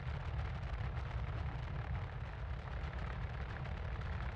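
A missile explosion in the space game Star Citizen, heard as a sustained, loud, deep rumbling roar that fills the whole stretch with dense low-end energy and no talk.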